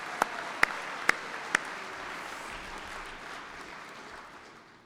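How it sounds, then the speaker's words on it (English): Four sharp, loud claps ring out, then a graduation ceremony audience at New Mexico Military Institute keeps up a broad, even wash of applause that slowly fades. "Let's give them all a round of applause."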